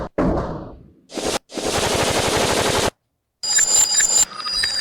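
A man vocally imitates machine gun fire, producing loud bursts of rapid rattling in several separate runs with short silent gaps between them.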